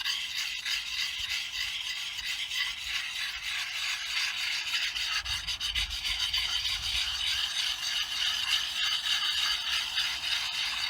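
A steady rasping scrape of a whetstone rubbed back and forth along an axe blade, continuous and close, its tone shifting slightly partway through.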